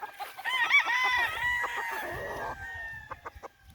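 A young gamefowl stag, an early bird, lets out a strained rising crow followed by a few short clucks, loud and close on a farm.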